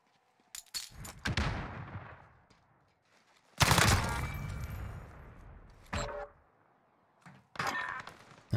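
Loud gunfire bursts from a Modern Warfare game match, sharp broadband cracks in several separated volleys with decaying tails, no talk heard.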